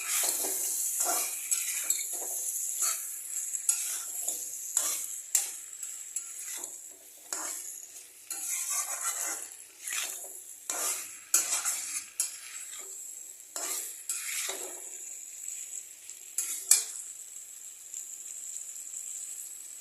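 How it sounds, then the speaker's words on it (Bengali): Pieces of fried chicken being stirred and browned in spice masala in a pan, with repeated scraping and clinking spoon strokes over a steady soft sizzle, no one talking. "ভেজে রাখা মাংসগুলোকে দিয়ে এই মশলার সাথে ভালো করে কষিয়ে নেব।"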